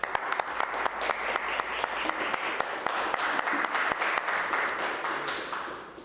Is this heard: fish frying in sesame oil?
no